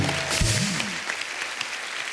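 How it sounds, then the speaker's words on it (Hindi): Studio audience claps on a comedy talk show set, a loud burst right at the start that settles into steady applause, with a brief voice blended in early. "तो एक बार फिर से अपनी अपनी मम्मी के नाम पे ताली हो जाए।"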